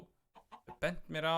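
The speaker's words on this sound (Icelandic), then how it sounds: "Og þarna er einn kjúklingur." A chicken in the game Minecraft gives a few short clucks, near and clear, over someone speaking Icelandic.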